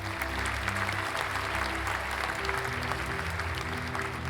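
Celebratory applause from a group, dense steady clapping at moderate volume sustained for several seconds, with no voices over it.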